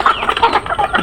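Domestic hens on a small farm cluck close to the microphone in quick, overlapping bursts.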